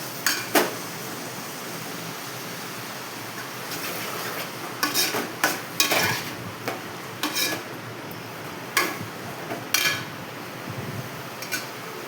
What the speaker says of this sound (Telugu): బాగా వేగనిద్దామండి, బాగా ఫ్రై అవ్వాలన్నమాట.